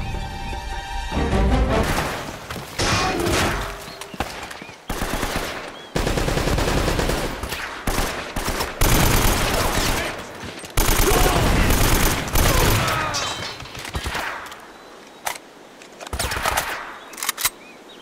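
Heavy machine gun fire in the action game Uncharted, long loud sustained bursts broken by short pauses, with shouted voices now and then.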